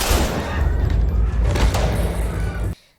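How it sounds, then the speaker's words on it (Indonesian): A dense, chaotic burst of gunfire with heavy booming thuds, loud and continuous for nearly three seconds before cutting off abruptly. "Suara tembakan mengisi udara dan semuanya panik."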